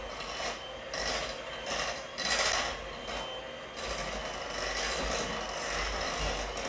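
An electric mixer running on high speed, blending pumpkin cheesecake batter, a steady whirring drone with rhythmic scraping swells as the beaters work, close and moderately quiet with no talking.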